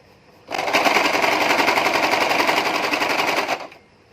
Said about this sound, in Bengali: তো আমি পুরোটা একইভাবে সেলাই দিয়ে দিব।